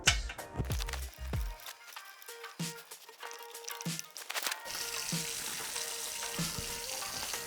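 A newly installed bathroom faucet is turned on, starting with a few clanks and taps before water runs steadily into the sink for the last few seconds, close and fairly quiet.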